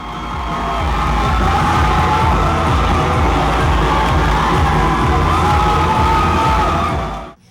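A large dance marathon crowd cheers and shouts as morale captains run in, a dense, loud, sustained roar of whoops and yells that holds steady before cutting off abruptly at the end.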